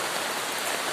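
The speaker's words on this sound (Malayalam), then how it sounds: "ഇനി നല്ല മഴ വരുന്നുണ്ട് കേട്ടോ." Heavy rain falls in a dense, steady hiss for a brief moment, even and uninterrupted, with no voices.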